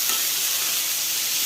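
Beans, carrots and onion fry in oil in a hot kadai, a steady close hiss and sizzle that holds without a break the whole time.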